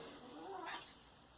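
A cat gives a short, faint meow in a workshop during a DIY mini highbanker gold-prospecting build, heard once over steady background hum.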